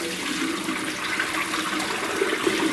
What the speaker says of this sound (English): Now I'm going to pour the gunk out of the filter.